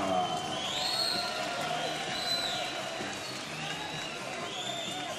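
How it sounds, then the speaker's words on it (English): A boxing arena crowd at a Warriors card gives a round of applause for a Hard Rock ring girl between rounds. The clapping and murmur are a steady, moderately loud wash, with announcer speech faintly beneath. "Round of applause for one of the Hard Rock ring girls"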